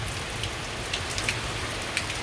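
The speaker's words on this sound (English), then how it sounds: "So a pretty good shot of rain." Steady rain pours down during a summer thunderstorm, a dense continuous hiss with a few brief drop ticks standing out, heard alone without voices.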